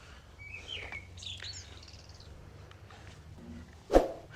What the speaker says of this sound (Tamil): ஃபுல்லாக அந்த பறவைங்க கீச்சுன்னு கத்துற சத்தம் மட்டும்தான் கேட்குது.